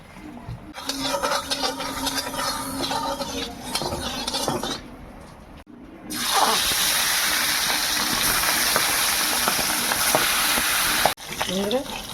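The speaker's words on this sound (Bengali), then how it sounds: "তেলের মধ্যে মাছটা দিয়ে।" Tengra fish full of roe go into a small amount of hot oil after a stretch of talk and light kitchen clatter. A sudden loud, dense sizzle erupts and holds steady, with a few spatters near the end.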